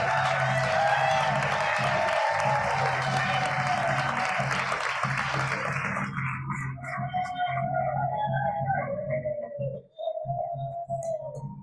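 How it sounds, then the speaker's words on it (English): An audience applauds honorees at a league gathering with loud, dense clapping that holds for several seconds, then thins out and fades as a voice speaks over the room. "Another round of applause for our honorees"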